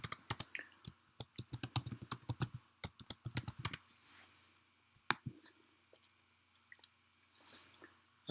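A new password is typed on a computer keyboard in rapid, close clicking bursts of keystrokes for a few seconds, then a few scattered taps and soft handling noises in a quiet room.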